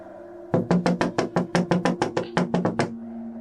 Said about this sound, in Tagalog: nagising sina Alexa at Leonora sa sunod-sunod na katok.